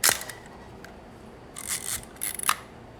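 A Zenit TTL film camera fires its mechanical shutter at 1/60 second, giving a sharp click up close in a quiet room, followed by softer mechanical clatter and winding noises.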